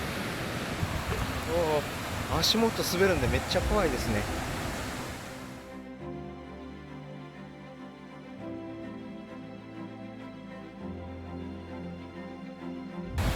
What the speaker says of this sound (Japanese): もう目の前が滝です。